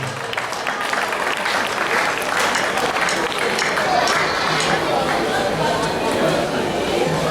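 Steady applause from the audience at the 15th anniversary ceremony of the Agneau de Dieu scout group in Kinshasa East, with crowd chatter and voices mixed into the clapping throughout.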